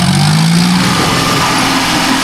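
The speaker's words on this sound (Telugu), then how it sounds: "ఈ 5103 బ్లాక్ ఇంజన్ అది" A 5103 tractor engine runs loud and close during field harvesting, with a steady mechanical drone and a humming tone that holds throughout.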